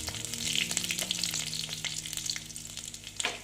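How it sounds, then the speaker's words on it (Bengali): Black cumin seeds and garlic crackle and sizzle in hot oil for bathua greens, a close, steady fry broken by occasional spoon stirs and scrapes. "তারপরে দিচ্ছি কালো জিরে তারপরে দিচ্ছি রসুন দিয়ে একটু ভেজে নেব"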